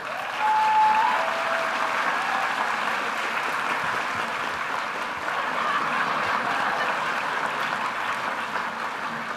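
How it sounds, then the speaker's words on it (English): A college fall convocation audience gives sustained, even applause that holds at a steady level for nearly ten seconds, full and somewhat distant, with no voices over it. "Let's give them a round of applause."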